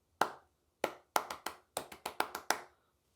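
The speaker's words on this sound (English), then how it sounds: "I'll just clap it now." A single person claps a rhythm exercise in a music-reading lesson for choir singers: eleven sharp, close claps in an uneven pattern of spaced and quick pairs, with nothing else heard.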